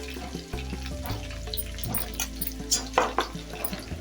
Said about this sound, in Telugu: అల్లం వెల్లుల్లి పేస్ట్ పచ్చి వాసన పోయేంత వరకు వేయించుకోవాలి.